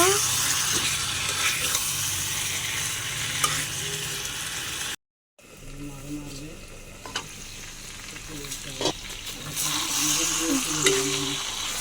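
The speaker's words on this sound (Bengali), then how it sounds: "বড় একটি আলু ছোট ছোট করে কেটে নিয়েছি, এর ভিতর দিয়ে দেব, দিয়ে নাড়াচাড়া দিয়ে নেব" Spiced quail meat curry with diced potato frying and being stirred in a pan, steady sizzle with scraping and knocking of a spoon, cut by a short dead silence midway, a voice speaking over parts of it.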